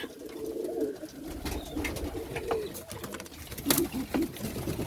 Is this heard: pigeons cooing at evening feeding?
yes